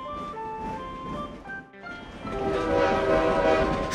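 A cartoon train runs along: bright, musical horn-like tones briefly break off, then a louder rolling rumble of the moving train rises and carries on.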